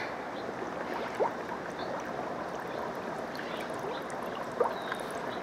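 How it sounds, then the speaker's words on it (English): Steady watery bubbling and trickling from an air pump aerating a bucket of organic compost tea mixed with fish emulsion fertilizer, a continuous close gurgle with a couple of brief splashy pops. "can see that bubbling. Turn on the pump, and this will create aerobic microbes"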